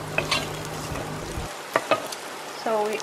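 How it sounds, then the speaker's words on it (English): Onion and garlic hit hot oil in a pan and are stirred, giving a brief sizzle with a few sharp utensil clacks. A voice briefly cuts in at the end. "They pour some oil and onion and garlic."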